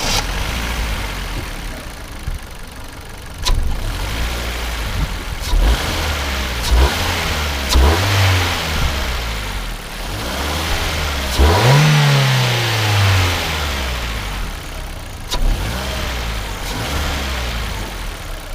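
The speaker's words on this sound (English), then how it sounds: "I'll give you a little sound of the engine" Car engine idling close by, then revved several times in short bursts, each rev rising sharply in pitch and dropping back to a rumbling idle.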